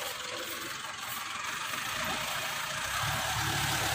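A Mitsubishi Pajero automatic engine runs with the gas pressed gently, a faint, steady low hum and broadband rumble that swells slightly toward the end.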